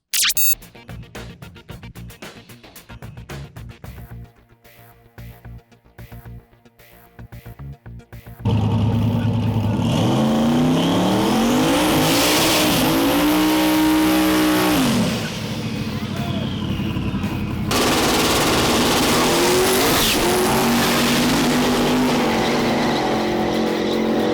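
A turbocharged car engine revs hard and close, rising and falling in pitch through several long pulls after a stretch of choppy, broken sound at the start.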